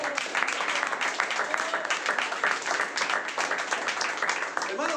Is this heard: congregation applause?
yes